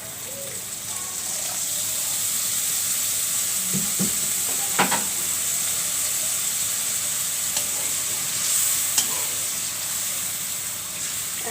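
A hilsa fish curry with bones in spice paste sizzles steadily in a pan after a little water is added, with a soft hiss and a few light stirring knocks up close.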